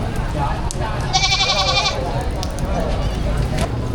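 Goats bleating at a rainy livestock auction market in Padre Garcia, Batangas, with one wavering bleat standing out over steady crowd noise and people talking nearby.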